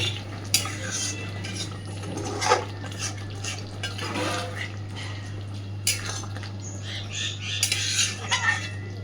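Kashmiri potato curry (aloo dum) is stirred and mixed in a pan with a utensil, giving intermittent scraping clinks and knocks over a low steady hum, with faint sizzling beneath.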